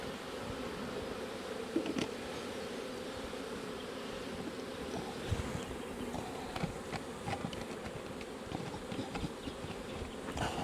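Honey bees from an opened hive during an alcohol wash for varroa mites hum in a dense, continuous buzz, close and steady, with a few knocks and handling taps and no talk.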